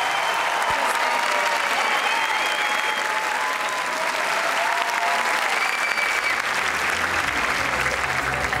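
Sustained, dense applause from a large studio audience at a televised talent show, steady and loud throughout with no pause, sending off a performer.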